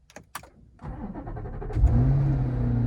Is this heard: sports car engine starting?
yes